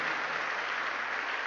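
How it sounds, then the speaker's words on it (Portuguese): A church congregation claps together during a sermon, a steady dense wash of applause filling the room with no pauses. "Quem crê pode aplaudir a Ele"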